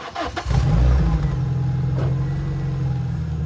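A car engine with an old cam belt, revving briefly as the car makes a quick lurch forward, then settling into a steady idle hum, close and loud.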